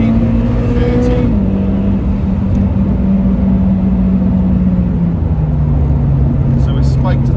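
A turbocharged car engine heard from inside the cabin holds a loud, steady drone whose pitch steps down gradually, with a faint whistle rising near the end.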